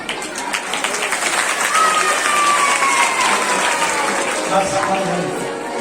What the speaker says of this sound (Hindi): एक बार इन भक्तों के लिए जोरदार ताली बजाओ